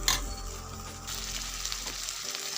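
Vegetables tipped into a hot, oiled pan for an egg curry sizzle and fry steadily at close range, with a brief burst at the start as they hit the pan.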